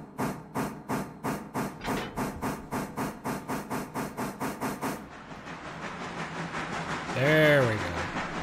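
A steam locomotive in the Railroader game chuffs in a steady, fast rhythm of about sixteen loud beats, then gives way to a continuous hiss and a brief rising-and-falling whistle.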